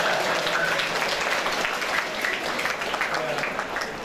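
A church congregation at a name-day Mass for Saint Peter applauds a band, a soft, diffuse wash of clapping heard from a distance. Some murmured voices blend underneath.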